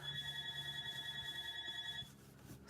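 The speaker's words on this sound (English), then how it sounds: "Sorry about my phone ringing there in the background." A telephone rings in the background of a room, its steady electronic tone repeating for about two seconds before it cuts off, fairly faint and with no talking over it.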